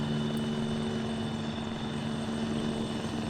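Helicopter in a video game, a steady droning rotor and engine hum with a strong low tone, constant and fairly loud, running alone with no speech.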